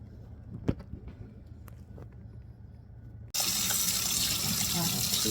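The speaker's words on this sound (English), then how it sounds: "I'm running cold water over it." Cold tap water gushes into a bowl over beef honeycomb tripe, starting abruptly partway through as a loud, steady rushing splash after quieter kitchen clatter and a few knocks.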